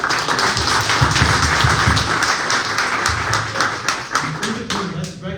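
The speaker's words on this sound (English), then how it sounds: "Let's give everybody, the doctors here, a round of applause." An audience at a dental office grand opening event claps for the doctors, a sustained round of close, dense hand-clapping with sharp individual taps that continues steadily and thins slightly toward the end.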